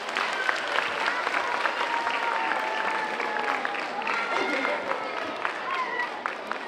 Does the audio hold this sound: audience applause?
yes